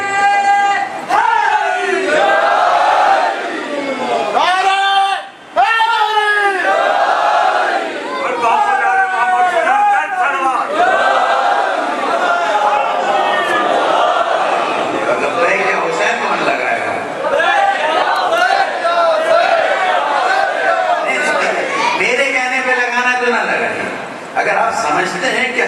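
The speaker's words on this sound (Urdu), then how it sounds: "اس پہ تو کئی نعرے لگنے چاہیے، ایک ہی نعرے" Crowd of many voices chanting religious slogans at a sixth-Muharram majlis in an imambargah in Defence, loud and sustained with rising and falling chorused calls for about twenty-five seconds and only brief dips.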